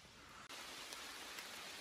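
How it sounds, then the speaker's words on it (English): Rain starts falling on a forest hike in North Georgia, a soft, even hiss of drops on leaves, faint and steady. "it's completely starting to rain now"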